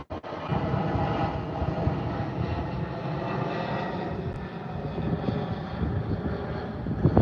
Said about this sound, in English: Oh, it's a 757. Boeing 757.